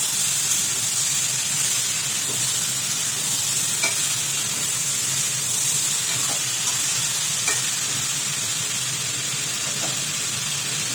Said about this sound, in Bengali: আমরা একটু আবার ভালো করে নেড়ে নেব।